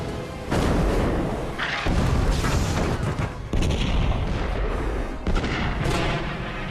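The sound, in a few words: artillery shells fired at battleship Bismarck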